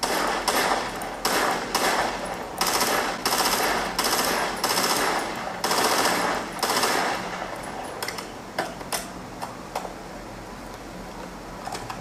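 Video game gunfire coming through the built-in speakers of a Lenovo Legion 7i gaming laptop, rapid bursts of sharp shots in quick repeated volleys, loud at first and then thinning into scattered single cracks.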